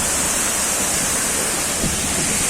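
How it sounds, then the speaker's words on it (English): Dudhsagar Waterfall in Goa thunders as a steady, dense roar of falling water, loud and close, filling the whole stretch without pause and with no voices. "It's called the Dudhsagar Waterfall in Goa."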